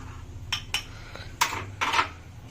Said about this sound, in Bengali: আমি একটু জল দিয়ে এটাকে গুলে নেব